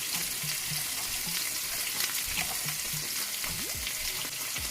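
Onions with black pepper and paprika fry in a skillet with a dense, steady, close sizzle and crackle that runs the whole time, plus a few faint low knocks and no voices.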